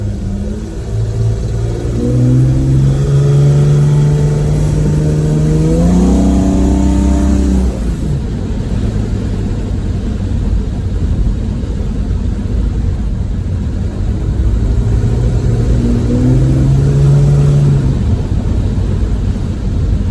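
A Chrysler 245 Hemi six-cylinder engine with Weber carburettors, on a road test, drones loud and close inside the car. It climbs through the gears with rising revs, settles into a steady cruise, then revs up again.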